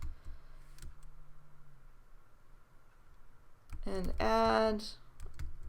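A comment is typed on a keyboard while reviewing student work, with soft, scattered key clicks near and fairly quiet, followed by a short burst of a man's speech.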